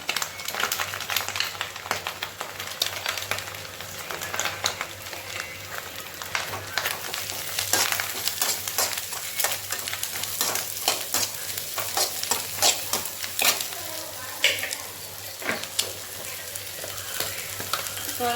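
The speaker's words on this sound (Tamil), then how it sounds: "இப்போ கேரட் பீன்ஸ் போட்டுடலாம்." Carrots and beans stir-fried in a pan for egg noodles, heard as a continuous close sizzle with frequent scraping and clacking of a utensil stirring against the pan.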